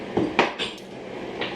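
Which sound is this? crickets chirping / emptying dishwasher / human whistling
emptying dishwasher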